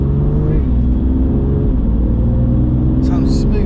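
BMW M2 Competition engine running from inside the cabin, a smooth, steady low rumble with harmonic tones that shift slightly as revs change, and a brief voice near the end.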